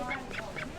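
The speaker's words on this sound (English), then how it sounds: "The duck is a pet rather than food." Pet duck at a market giving three quick nasal quacks in under a second, moderately loud over steady busy background noise.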